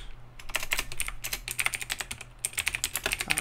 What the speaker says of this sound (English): Hopefully my keyboard is not too loud.